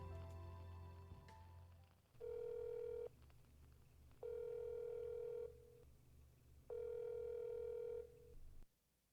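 A telephone call being placed: after some brief earlier tones, three long, steady ringback beeps sound in a regular pattern with pauses between them, clear and isolated against a low hum.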